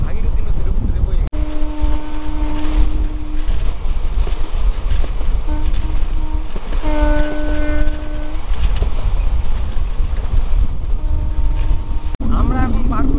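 A train rolls across the iron bridge over the Bhagirathi river between Murshidabad and Malda, a loud continuous rumble and rattle with sustained tonal horn-like drones recurring throughout.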